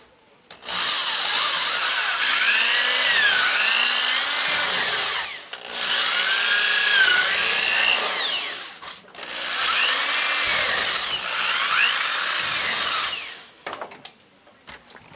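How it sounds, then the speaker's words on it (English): A power drill whirs loudly in three long bursts of several seconds each, drilling screw mounting holes in a computer case, with brief pauses between, close up and with no talking. "now I'll just go in and drill out these holes for the mounting holes for the screws"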